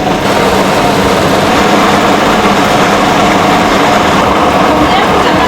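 A kitchen blender runs continuously at high speed, pureeing golden-browned parsnips into a very fine vegetable puree for a festive meal, a loud steady whirring roar that fills the whole clip.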